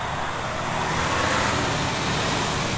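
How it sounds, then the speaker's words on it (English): An orange truck hauling a tractor on its back rolls past on a city street, a broad steady roar of engine and tires that swells toward the middle and stays loud throughout. "A truck with a tractor on the back."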